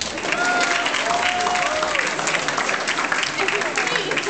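An audience claps and cheers at a school entrance event, a dense, loud wash of applause with a voice or two rising over the crowd noise.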